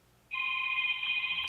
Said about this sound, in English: We have a caller on the phone.